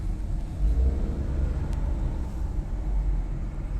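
A car drives along at steady speed, a low continuous rumble of engine and road noise heard from inside the cabin, with no one speaking.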